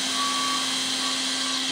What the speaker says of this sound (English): So when I lower the handle here, okay, the vac motor is going to come on automatically.